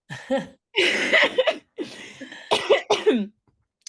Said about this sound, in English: sorry, I've got a cough at the moment